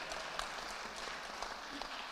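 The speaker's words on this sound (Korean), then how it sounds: "이 박수는 진짜라고 믿어요." An audience at a church evening meeting applauds with a soft, diffuse wash of clapping that sounds somewhat distant and steady.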